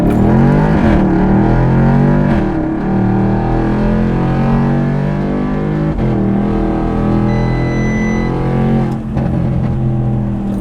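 An Audi S6 C7.5 tuned to Stage 2 (about 600 hp) accelerates hard and close, its engine drone rising steadily in pitch through several gear changes, loud and sustained without any talking.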